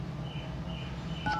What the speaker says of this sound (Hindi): रुको, कस्टमर को फ़ोन कर लेता हूँ एक बार।